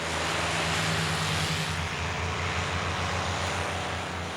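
A P-51 propeller airplane's piston engine drones loudly and steadily, a low pulsing throb with broad roaring noise on top, sustained throughout with no voices.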